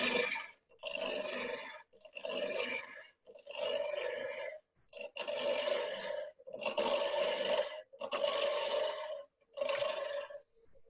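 A wood lathe gouge cuts a hollow form in a series of about eight rough, scraping bursts, each lasting a second or so, with short quiet gaps between them.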